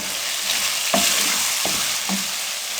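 Masala frying steadily in hot cooking oil for dal mash, a constant bright sizzle with a few sharp spoon scrapes and knocks against the pan, no voices.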